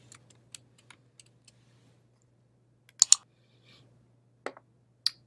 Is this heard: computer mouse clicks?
yes